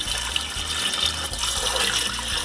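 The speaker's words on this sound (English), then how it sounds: "So I've got about a half gallon of water going into the pot." Water pours steadily into a soup pot, a continuous splashing, gurgling stream with no pauses, close and fairly loud.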